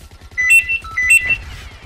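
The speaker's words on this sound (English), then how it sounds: "Oh, there goes the phone." Ringing telephone tone heard while playing Plants vs Zombies Garden Warfare, two bright repeated ring bursts close and clear over a low rumbling game background, with no talking.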